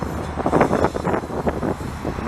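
A local CP train passing close by at Lachine station in Montreal, a loud rumbling roar with rhythmic bursts of wheel and car noise and some wind buffeting on the microphone.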